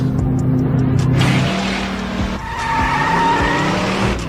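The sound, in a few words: sound effect of cars skidding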